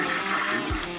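A toilet flushing in a video game, a brief rushing swirl of water that fills the whole moment at steady loudness, with no talk over it.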